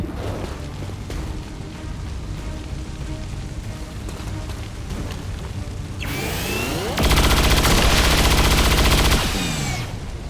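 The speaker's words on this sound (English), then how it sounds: "We are just gonna fire at it because we have blue screen rounds on Spitfire." Sustained automatic gunfire aimed at a mech in the video game XCOM 2, a loud dense burst of rapid shots over booming game ambience, swelling midway and tapering off near the end.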